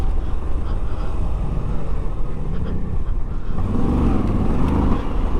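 A 2022 Moto Guzzi V85TT motorcycle ridden off-road over whoops and sand, its engine droning steadily and loudly with wind rush and some rising revs near the end.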